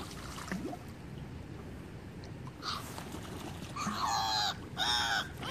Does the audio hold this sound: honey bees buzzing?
no